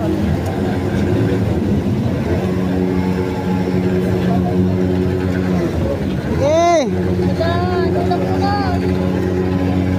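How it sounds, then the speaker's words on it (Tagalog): An amphibious motorcycle crossing water, its engine droning steadily up close with a rising rev surge partway through, while people shout and talk over it. "Mga amphibian na motor oh"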